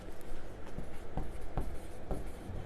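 Chalk or marker scratching across a classroom board in short strokes, several distinct scrapes spaced irregularly over steady room noise, with no talking.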